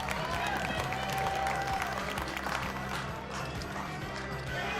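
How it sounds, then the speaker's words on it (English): A live poker tournament crowd at a World Poker Tour event applauds and cheers after a bluff, a dense, sustained roar of clapping and voices throughout. "Crowd goes wild, and how could they not?"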